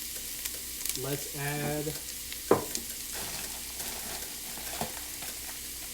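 Onion and garlic sizzling as they sauté in a pan, a steady close frying hiss with a stir and a clatter partway through, under a brief spoken remark.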